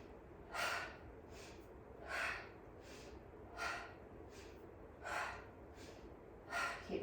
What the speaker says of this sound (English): One more time, breath of fire in our chair pose.